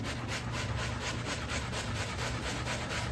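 Soap and hydrogen peroxide scrubbed into a grass stain on baseball knickers make a steady, close rubbing sound with quick, even back-and-forth strokes and no voices.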